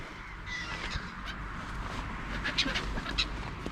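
Seagulls call outdoors on a sunny morning, with a few raspy, crow-like squawks rising faintly and intermittently above a steady background hiss, most noticeable toward the end.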